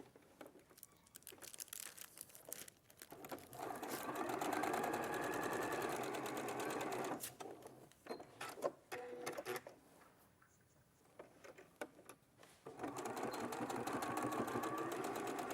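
Sewing machine stitching down the sides of zip tabs, running in several bursts of rapid mechanical whirring separated by pauses with fabric handling and rustling in between, close and fairly loud.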